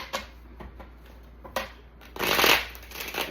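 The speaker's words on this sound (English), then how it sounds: "Let's get one more shuffle." Tarot cards riffled and shuffled by hand in quick bursts, with a short flutter near the start, another around the middle, and a louder, longer riffle toward the end, close and clear in a quiet room.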